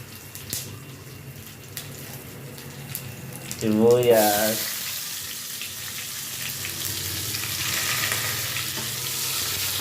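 Sliced onions go into a hot pan while monggo beans are being cooked: a quiet stretch, then a sudden loud burst of sizzling as they hit the oil, settling into a steady frying hiss.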